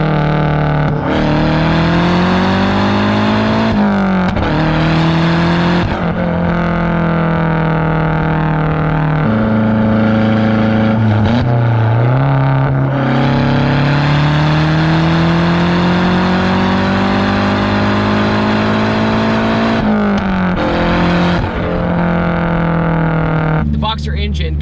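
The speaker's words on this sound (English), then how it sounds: "The sound this car makes is exactly like a boxer" Mazdaspeed6 turbocharged engine accelerating with a boxer-like burble, loud and sustained, its pitch climbing and settling through gear changes while someone talks over it most of the time.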